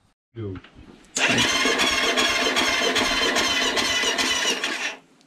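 A Yamaha YFZ 450 quad engine, spark plug removed, cranks over steadily on a weak battery with a fast, rhythmic starter whir that never catches, preceded by a short voice and a click.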